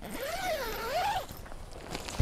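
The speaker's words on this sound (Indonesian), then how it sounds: "penutupan si pintu teras ini ada resleting dan pakai bahan velcro juga" A zipper runs along the porch door of a Naturehike Arjuna camping tent, giving two quick sweeping zips close to the microphone, then a soft thump.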